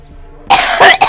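An adult's cough in a domestic drama scene, three harsh close bursts in quick succession after a quiet start, loud and alone.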